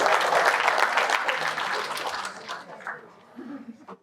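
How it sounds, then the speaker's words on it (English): Audience hands clap during a leadership lecture, a burst of dense clapping that gradually thins and fades, leaving sparse low rumbles at the end. "let me clap hands for you"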